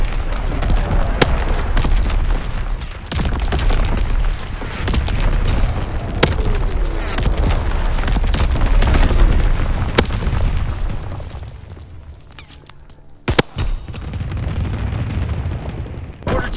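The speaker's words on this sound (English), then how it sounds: "Firing division artillery." An artillery barrage in the multiplayer game Call of Duty WWII, a long run of heavy booming explosions with deep rumble and sharp cracks. It is loud and dense, eases briefly near the end and then resumes, with no voices.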